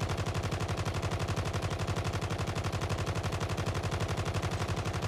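A Holger 26 converted to an SMG fires in a video game, a long unbroken stream of rapid, evenly spaced shots, loud and close, with no talking.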